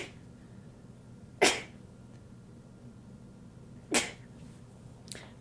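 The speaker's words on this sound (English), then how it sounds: "if she sneezes more than twice, she doesn't get a bless you." A person sneezes twice, about two and a half seconds apart, each a sharp, close burst over a quiet indoor background, followed by a fainter third breathy puff near the end, with no talking.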